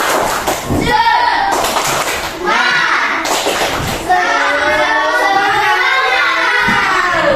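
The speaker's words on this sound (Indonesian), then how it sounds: "Tepuk semangat dulu kita supaya cek semangatnya" A class of children does a rhythmic spirit clap in an Indonesian classroom, with loud, busy claps mixed with children's shouting and chanting voices throughout.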